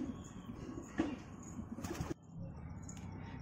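A pair of Lotan pigeons coo softly near a cage as they are let out, with faint close rustles and a brief clatter over quiet background noise.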